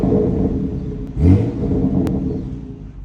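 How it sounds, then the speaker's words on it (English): A BMW X4 M with the S58 engine and a sporty exhaust gives a low, steady rumble, swelling into one short throaty burst midway before settling back to a near, idling drone. "So yeah, the exhaust is definitely sporty."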